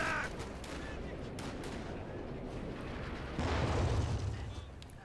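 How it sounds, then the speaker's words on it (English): Artillery fire from a Pack Howitzer in the Company of Heroes 2 video game, a dense rumble of booming shots and battle noise that swells louder near the end, with game voices mixed in. "Except for the Pack Howitzer shooting it."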